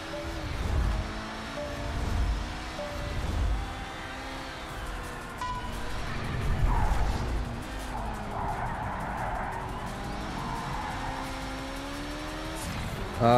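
A race car in Project Cars 3, its engine revving hard with rising and falling pitch while the tires spin and skid, loud and continuous throughout.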